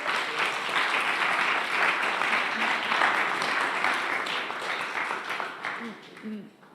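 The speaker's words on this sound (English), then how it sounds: "please give again a huge round of applause to all the teams who pitched it today" A conference audience at a decentralized science event gives sustained applause to the teams that pitched. The steady crowd clapping carries on for several seconds, with a few voices and a cheer rising near the end.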